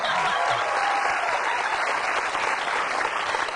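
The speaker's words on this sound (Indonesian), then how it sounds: "Tepuk tangan dong." A live studio audience on an Indonesian evening talk show breaks into sustained applause, a dense steady roar of clapping lasting several seconds, with faint voices mixed underneath.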